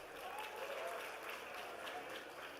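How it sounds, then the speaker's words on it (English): Steady applause from a university convocation audience, a broad wash of many hands clapping at moderate distance, continuous for the whole stretch without voices over it. "give them a big round of applause please"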